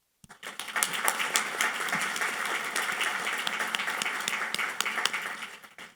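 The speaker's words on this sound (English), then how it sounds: "please give a round of applause for our amazing volunteers helping keep today running on" A round of applause for volunteers at a women's heart health symposium, starting abruptly and holding as dense, steady clapping from a sizable audience before thinning out near the end.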